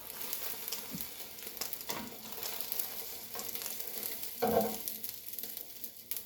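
Egg omelette sizzling and frying steadily in a pan for breakfast, a continuous close crackle with a brief louder burst of sizzle partway through, no voices.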